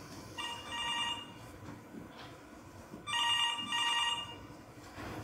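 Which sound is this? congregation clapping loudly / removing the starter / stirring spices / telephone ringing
telephone ringing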